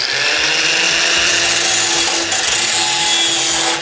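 Over-long self-tapping screws are cut down during a 1987 EZGO Marathon golf cart rebuild, a loud, steady abrasive grinding that runs for about four seconds without a break.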